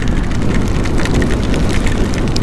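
Steady rain pours down around a vehicle stopped at a toll crossing on a long drive from Badrinath to Delhi, a dense continuous hiss with scattered pattering drops throughout, loud and close, with no talk.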